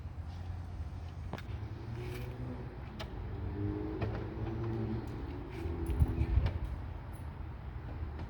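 A portable off-road air compressor inflates four vehicle tires, running as a steady, fairly close motor hum with a faint droning tone and a few soft clicks and knocks.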